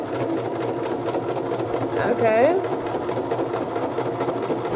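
A sewing machine stitches fabric for a pillow, its fast, steady mechanical whir running throughout, with a person briefly speaking midway.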